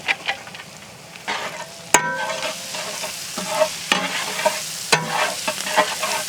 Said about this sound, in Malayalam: ഇനി ഇതിലേക്ക് നമ്മുടെ ഇഞ്ചി, വെളുത്തുള്ളി, അതുപോലെ പച്ചമുളക് ഇട്ട് കൊടുക്കാട്ടാ.